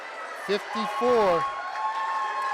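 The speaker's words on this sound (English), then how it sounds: "Listen to that crowd. They are happy here on Notre Dame Avenue." A crowd at a boys' high school basketball game cheers and claps after the final buzzer, a steady wash of noise in the gym with a voice talking over it.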